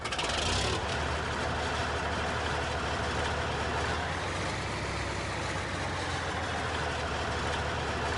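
A tractor engine in the Farming Simulator 19 video game drones steadily and loudly throughout, a continuous low mechanical rumble with no break.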